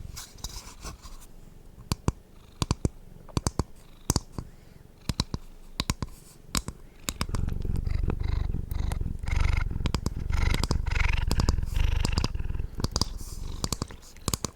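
A cat purrs close by during an ASMR session, a steady soft rumble growing louder in the second half, mixed with frequent sharp clicks and tapping.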